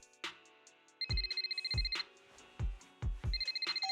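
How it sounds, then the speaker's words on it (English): A phone ringtone for an incoming video call in the video game Zenless Zone Zero: a bright repeating electronic melody over punchy low beats, cycling several times with no voices. "the phone rings again"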